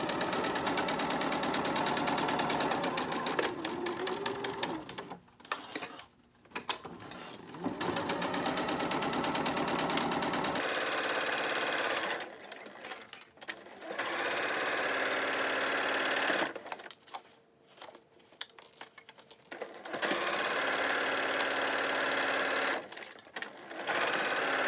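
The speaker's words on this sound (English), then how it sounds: "Now we're going to stitch all the way around our mask using a 1/4 inch seam allowance" Close and loud, a sewing machine stitches around a cloth face mask in several long runs broken by brief pauses as the fabric is turned.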